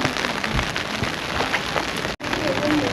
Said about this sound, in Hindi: बारिश बहुत सख्त किस्म की तेज़ हो गई है